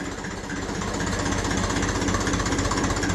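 A 1954 Ferguson 20 TEF diesel tractor engine runs steadily at middling revs, with a dense, rapid clattering pulse that stays loud and unbroken throughout. No talking is heard.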